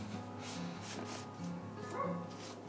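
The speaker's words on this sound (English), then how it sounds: "those dogs are barking their heads off up there." Several dogs barking and yipping at a distance, faint and intermittent over a steady low hum, outdoors near a camper van conversion build site.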